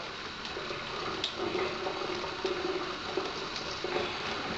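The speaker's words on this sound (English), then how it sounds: "add a little bit more water." Tap water runs steadily into a bowl of sweet mustard pickle paste, a soft continuous splashing trickle, close and fairly quiet, with no voices.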